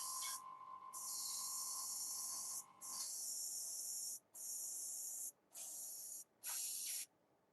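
Spray paint hisses out in a light first coat of base color, a series of close bursts, the first two long and the last few shorter with brief pauses between.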